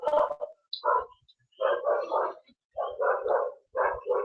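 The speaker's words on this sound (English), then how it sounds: "I don't even know why he's barking." A dog barks repeatedly indoors in short clustered bursts of two or three yips and barks separated by brief pauses, loud and close.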